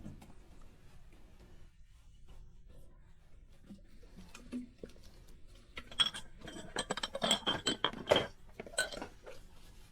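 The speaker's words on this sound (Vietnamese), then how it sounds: "Roya bắt đầu giúp mẹ rửa bát đĩa sau bữa tối." Dishes and pots are washed after dinner, with soft clinks of crockery and cutlery and splashing water growing busier and louder toward the end, over quiet background noise.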